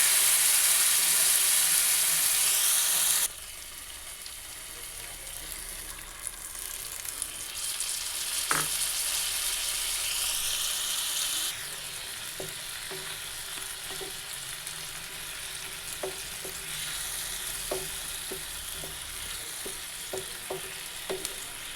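A spice paste with ginger and a pinch of salt fries in a pan for an ash gourd dish, giving a steady close sizzle that is loudest at first, then a softer continuous hiss with scattered small pops and a stir.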